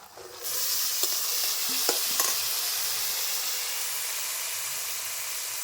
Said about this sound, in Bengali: দিয়ে দিচ্ছি পেঁয়াজ কুচি, দিয়ে দিচ্ছি সিদ্ধ করা রাখা চানাগুলি